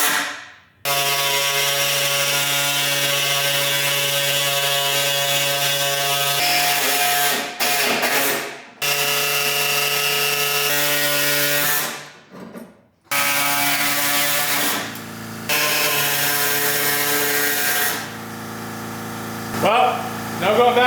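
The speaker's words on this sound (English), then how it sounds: "So I'm going to get in here with the air saw and start cutting." An air saw cuts into the body panel of a Subaru STI, giving a loud, close, buzzing reciprocating rattle in long bursts with brief stops between cuts.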